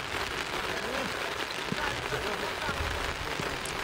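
Rain falls steadily over an outdoor cane-side cricket match, a dense, even patter spread across the whole moment, with faint scattered thuds in the background.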